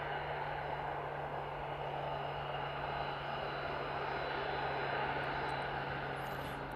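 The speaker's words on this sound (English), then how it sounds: "Deploying that reverse thruster again." An aircraft landing at East Midlands Airport roars with reverse thrust, a steady broad engine rush with a constant low hum, heard from a distance and unbroken by speech.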